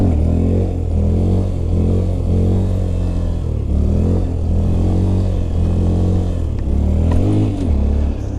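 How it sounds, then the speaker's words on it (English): Motorcycle engine droning steadily and loudly in a wheelie, with rhythmic swells in pitch as the rider holds the balance point and taps the rear brake. "that's a wheelie right there, boy. Bringing it up to balance point, using the rear brake, bringing it back down"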